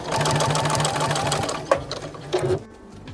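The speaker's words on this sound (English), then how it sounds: "put the fabric right sides together and sew that down using a 1/4 inch seam allowance" Sewing machine stitching denim patchwork pieces with a quarter-inch seam, a loud steady motor whir with rapid needle pulses that halts near the end, leaving a few brief handling clicks.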